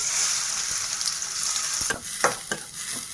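Onions sizzle steadily in hot oil in a pan, with a few scrapes and stirring knocks toward the end, and no voices.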